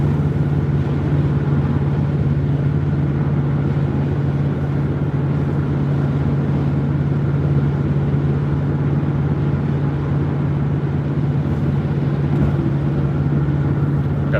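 Inside a Jeep with a Hemi V8 on the road, a constant low engine drone with a steady hum fills the cabin evenly with no talking.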